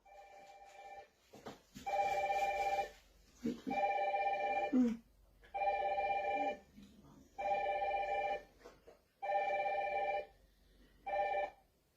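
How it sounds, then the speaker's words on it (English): A telephone rings in repeated electronic bursts, about six evenly spaced rings, each around a second long with short pauses between, loud and close, and a brief voice or noise in one of the early gaps. "Phone again."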